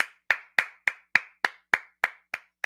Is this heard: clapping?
yes